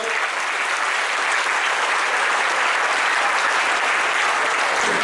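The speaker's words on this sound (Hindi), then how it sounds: "मैं चाहूंगा कि आप लोग एक जोरदार ताली से उनका स्वागत करें।" An audience at a cricket association's annual felicitation function claps loudly and continuously, with dense, sustained applause that fills the whole moment.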